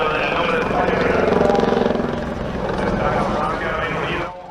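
A military helicopter flown by two instructor pilots from ALA 78 performs an airshow display at Torre del Mar 2024, its loud, close rotor thump and turbine roar steady throughout before easing off at the end.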